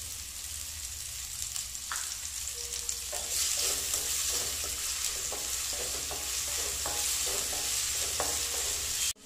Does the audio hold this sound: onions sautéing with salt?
yes